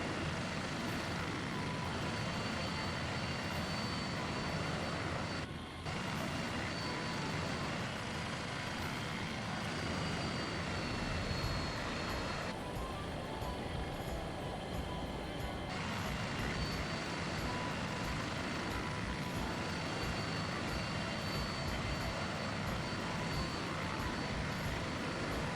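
A helicopter engine drones steadily on a landing approach in a flight simulator game over mountains in Chile and Argentina, a constant dense loud roar with a couple of brief dips throughout.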